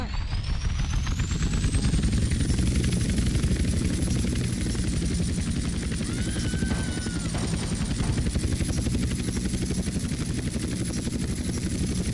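A helicopter in GTA San Andreas throbs loud and close with a continuous, steady rotor chop and engine whine, and no voices over it.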